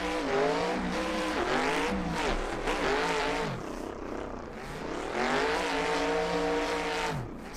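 Comp-style drift cars of about 800 horsepower race in a drift invitational video game, with engines revving and wailing up and down and tires squealing, loud and continuous with no talk.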